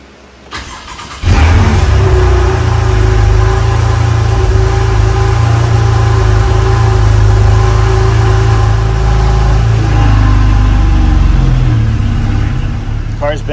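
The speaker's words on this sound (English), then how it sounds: "I'm going to go ahead and escape and start her up." A Porsche 911 with a freshly replaced battery cranks briefly and fires, then settles into a loud, steady idle with an even low rumble, close to the microphone and with no talking over it.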